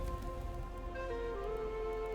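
Rain falls over a plains biome in the video game Preserve, a steady even patter beneath sustained tonal game sounds.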